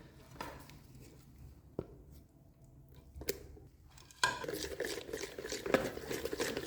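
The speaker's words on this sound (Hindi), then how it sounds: "मायोनीज़ को भी अच्छी तरह से मिक्स करेंगे क्रीम के अंदर ही।" A spoon stirring mayonnaise into cream for cream chaat, soft scraping and knocks against the bowl, faint at first and then a steadier, closer run of mixing sounds.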